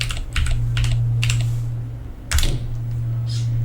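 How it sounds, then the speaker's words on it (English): Several distinct key presses as a command is typed on a computer keyboard while configuring a cryptocurrency miner, with spaced clicks over a constant low electrical hum and a louder keystroke near the end. "Now we will type the command info."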